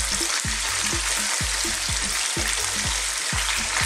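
Chicken fries on high heat in a karahi, a dense steady sizzle with regular soft knocks of the pan roughly twice a second as it is tossed, no talking.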